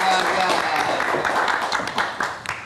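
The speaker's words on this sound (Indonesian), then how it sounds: "Kita kasih tepuk tangan dulu buat Fajar" A live talk-show audience applauds Fajar with steady, moderately loud clapping, and voices talk over the applause.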